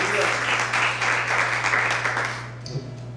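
Church congregation during a Sunday-morning sermon claps together in a sustained burst that gradually thins and fades out near the end, with some voices mixed in over a steady low hum.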